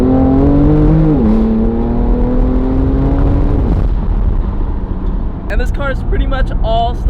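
A BMW M3 running a stock exhaust revs hard and loud with a raspy engine note, its pitch climbing and then settling as the run goes on, while someone talks excitedly over the exhaust.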